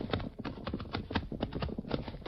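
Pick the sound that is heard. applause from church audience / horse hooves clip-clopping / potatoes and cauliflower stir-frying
horse hooves clip-clopping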